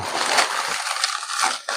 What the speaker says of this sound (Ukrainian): У нас тут, скоріш всього, пляшка з водою